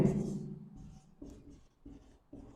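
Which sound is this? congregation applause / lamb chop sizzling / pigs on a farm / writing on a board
writing on a board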